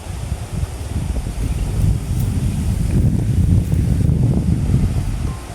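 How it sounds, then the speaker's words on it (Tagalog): Strong wind roars and buffets the microphone continuously, a dense low rumble with gusts that swell and ease, no voices heard. "Grabe napakalakas ng hangin."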